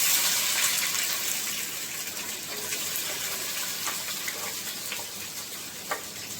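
Onions frying on low heat in a pan for egg pulusu, giving a steady, close hiss of sizzling that runs throughout with a few faint crackles and no talking.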